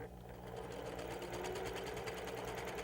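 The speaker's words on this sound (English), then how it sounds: "sew your piecework together" A sewing machine stitches quilt piecework together in a steady, rapid mechanical whir that runs unbroken throughout at a fairly soft level.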